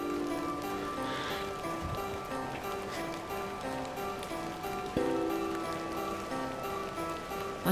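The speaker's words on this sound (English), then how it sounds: "Of course it's raining" Rain falls in the point-and-click adventure game The Excavation of Hob's Barrow as a steady, soft patter, with a quiet musical drone beneath it and no speech.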